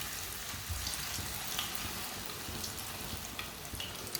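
Battered eggplant slices fry in hot oil, a steady crackling sizzle with scattered sharp pops, fairly quiet and continuous with no voices.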